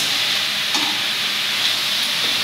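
Onion sautéing in a hot pan for a peas-and-egg bhurji gives off a steady, even sizzle and hiss that runs unbroken from start to finish, with no talking over it.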